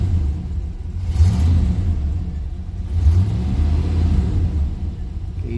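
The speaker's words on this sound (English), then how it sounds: "Let's fire this sucker up." A 1987 Chevrolet Monte Carlo SS with automatic transmission runs nearby with a steady, heavy low rumble that swells slightly as it revs, loud and continuous throughout.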